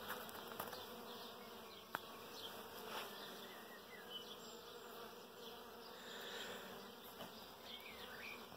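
Pollinating insects buzzing around firethorn bushes outdoors, a faint, steady hum of many bees and flies with individual buzzes drifting near and away over a quiet background.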